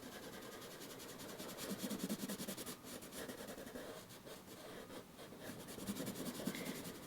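Watercolour pencils scratching across paper as colour swatches are laid down, a steady close dry rubbing with short strokes and brief pauses, no voices.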